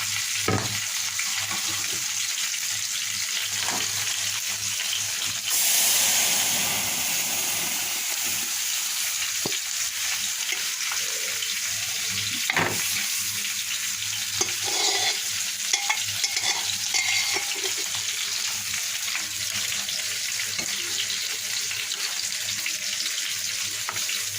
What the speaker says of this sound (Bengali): এবার ফোড়ন দিয়ে দেবো পেঁয়াজ রসুন এবং পাঁচফোড়ন দিয়েছিলাম ভাজা হয়ে গেছে